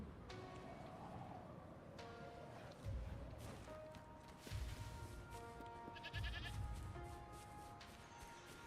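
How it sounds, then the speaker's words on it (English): In a video game field, goats bleat in a sheep-like way several times, short cries standing out over a busy bed of game ambience and music at moderate volume. "There be sheeps in this field. Or goats. Mostly goats. They sound like sheep, though."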